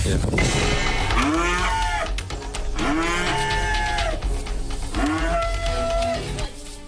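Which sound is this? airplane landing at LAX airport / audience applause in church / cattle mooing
cattle mooing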